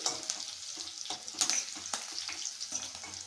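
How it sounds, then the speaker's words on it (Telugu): Dried red chillies with a pinch of fenugreek seeds frying in hot oil in a pan, a steady close sizzle with occasional sharp crackles and pops and faint stirring scrapes, no voices. "ఇలా మిరపకాయలు అయితే వేగనివ్వాలండి"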